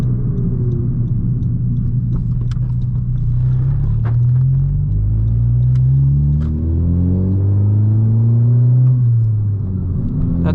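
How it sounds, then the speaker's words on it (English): A turbocharged 2018 Honda Civic Si fitted with a Garrett GTX2860R big turbo kit pulls hard through the gears, a loud steady engine drone rising in pitch with shifts, heard from inside the car. "That turbo does sound nice,"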